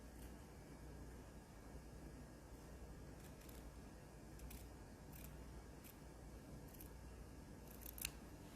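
Scissors snip through a single layer of fabric above silk backing while making a table runner. Several crisp, close cuts come at irregular intervals over a low steady background hiss.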